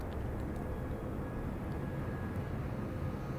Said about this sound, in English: that's a lot of torpedo bombers